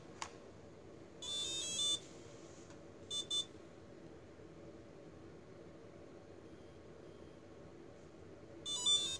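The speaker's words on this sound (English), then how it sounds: "That was the first beep." An electronic speed controller for a model plane beeps in three separate bursts of rapid high-pitched tones during programming, the last near the end, over a steady low hum.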